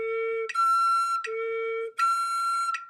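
A solo flute sounds clean sustained tones close up, a low note then a higher one with sharp tongued attacks at each change, in an alternating pattern.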